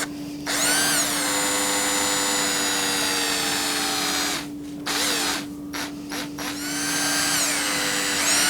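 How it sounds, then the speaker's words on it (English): Power drill driving screws into an electric guitar body, whirring in several bursts with ratcheting clutch clicks and short pauses between, close and clear with no talk. "Very gently put these screws in, and I'll go back and tighten them all a bit later by hand."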